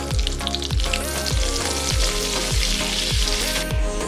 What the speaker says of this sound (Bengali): ওই একই তেলের মধ্যে দিয়ে দেবো বেশ কিছুটা বাটার।